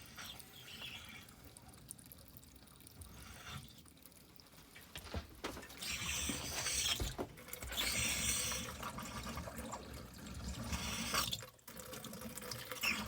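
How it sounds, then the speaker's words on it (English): Water runs and trickles steadily from two RV sinks into the drain and tanks, swelling louder in the middle with gurgling surges, no voices. "we are draining excess water out of the two sinks"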